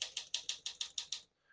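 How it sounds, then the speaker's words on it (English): A 1956 Smith-Corona Silent-Super portable typewriter types eight evenly spaced crisp keystrokes in quick succession, close and alone, followed by a soft ring of the margin bell. "Once you hear the bell, you're near the end of the margin."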